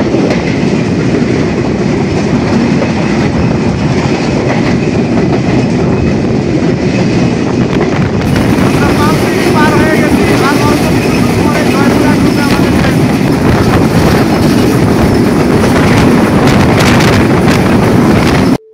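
Rupsha Express passenger train rolling on rails toward Joypurhat, a steady loud rumble and clatter of wheels with wind buffeting the microphone throughout, no pauses.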